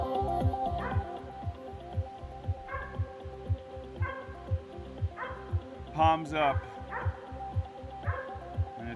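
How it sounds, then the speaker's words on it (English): A dog barks in repeated sharp bursts outdoors, probably at a squirrel treed nearby, under a steady rhythmic throb, while a person talks over it. "if you hear that barking, that's my dog"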